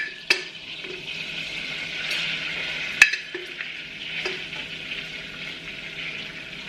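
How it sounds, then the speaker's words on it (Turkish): Butter melting with three tablespoons of flour for a roux in a home kitchen pan, a steady soft sizzle with a few sharp clicks of a utensil against the pan and light stirring scrapes, close and moderate in level with no talk. "Tereyağımı eritip üstüne de 3 yemek kaşığı kadar un koyacağım şimdi"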